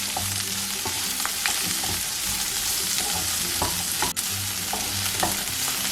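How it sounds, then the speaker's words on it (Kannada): Cluster beans with curry leaves sautéing in a pan, a loud, steady close sizzle with scattered pops and occasional stirring clatter, and no speech. "1 ನಿಮಿಷ ಬಾಡಿಸ್ಕೊಳ್ಳೋಣ."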